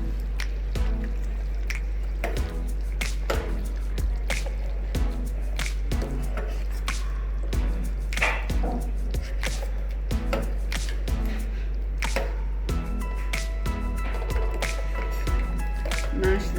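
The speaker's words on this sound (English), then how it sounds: "Mash the dal nicely." Cooked dal being mashed in a pot, producing repeated soft wet squishing and tapping strokes at a steady rhythm, close and fairly loud over a constant low hum.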